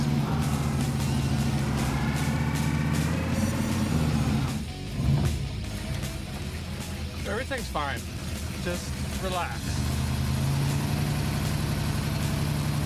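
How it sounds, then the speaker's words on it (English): A Chevrolet Bel Air engine running steadily after being restarted, a loud low idle with a rough tone that dips briefly midway, while someone talks over it. "now I'm gonna try to fire it back up."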